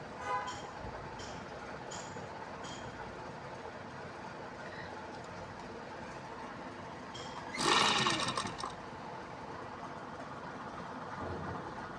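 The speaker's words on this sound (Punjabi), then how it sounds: "ਇੱਥੇ ਸ਼ੁਰੂ ਤੋਂ ਆਪਾਂ ਇਸ ਤਰ੍ਹਾਂ ਸਲਾਈ ਲਾਵਾਂਗੇ" Sewing machine stitching a sleeve onto a t-shirt: faint mechanical whirring and ticking, then a louder, denser burst of fast stitching for about a second, fading back to quiet hum; no talking.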